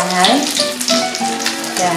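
Duck eggs fry in a pan with a loud, continuous close-up sizzle and crackle, faint tonal sounds drifting underneath the frying.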